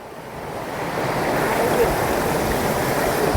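A flowing stream at Gautameshwar Mahadev, a steady broadband rush of running water that grows slightly louder after the first second and stays continuous and close.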